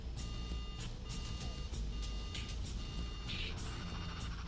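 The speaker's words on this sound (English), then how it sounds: "the engine fire alarm sounds" Concorde cockpit engine fire alarm, a repeating electronic beeping tone in regular pulses over a rumbling engine background.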